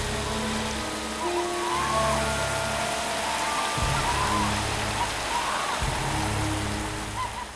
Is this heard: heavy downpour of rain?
yes